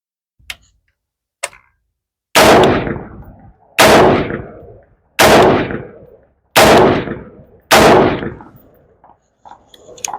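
An AR carbine fitted with an Armaspec carbine-weight buffer fires five loud, evenly spaced single shots about a second and a half apart, each a sharp crack with a brief echoing tail, after a couple of faint clicks.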